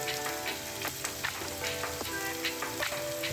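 Kashmiri chilli powder stirred into frying masala for a South Indian chicken biriyani gives a steady, close sizzle with a few soft scraping stirs, over a background of sustained musical tones and no talking.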